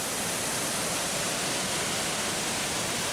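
Steady, dense roar of Mae Pan Falls, Chiang Mai's highest waterfall, pouring through the Thai jungle; a loud, unbroken broadband rush close by with no voices.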